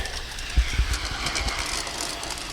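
A small G scale model train rumbles along its track with light clicking and rolling noise, steady and close, no voices.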